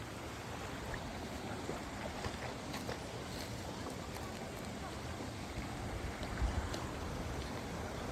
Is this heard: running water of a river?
yes